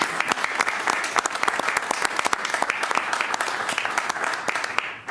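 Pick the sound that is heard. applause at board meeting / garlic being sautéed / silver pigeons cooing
applause at board meeting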